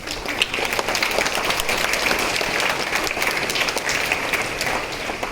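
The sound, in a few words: applause for students at school assembly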